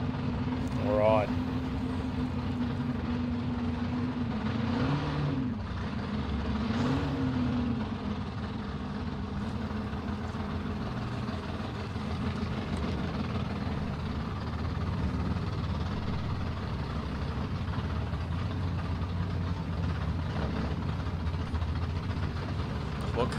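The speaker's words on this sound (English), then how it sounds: "I can hear some engines. Starting up." Drag racing car engines at an Australian radial racing test day, with a Ford Cortina among the cars, start up and rev with rising and falling pitch while commentators talk over the steady engine noise throughout.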